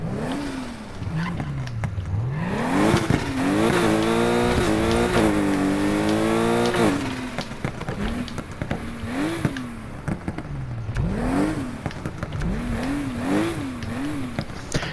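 A Porsche RSR in Need for Speed Heat, tuned with a twin-turbo stock motor, revs hard in repeated loud, close sweeps, holding high for several seconds and then blipping up and down.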